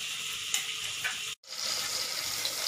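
Pointed gourd frying in a pan gives a steady, close hiss of sizzling oil that cuts out for a moment near the middle, then carries on evenly with no voices.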